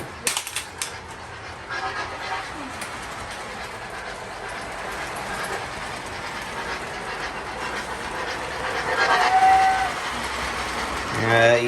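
A small O scale Lionel train with a single feed pickup rumbles and whirs along Fastrack with clicking and rattling, growing louder toward the end; a brief high squeal cuts through.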